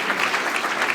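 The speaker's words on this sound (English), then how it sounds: "you should clap for that" Steady applause from the audience at an annual banquet, a brief dense burst of many hands clapping.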